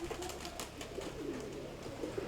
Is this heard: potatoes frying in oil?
no